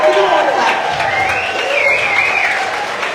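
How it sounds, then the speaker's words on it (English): Supporters clap for volunteer suburb captains at a campaign gathering for a Curtin independent MP, a steady crowd applause lasting a few seconds with murmuring voices and a little cheering mixed in. "Give it all a clap"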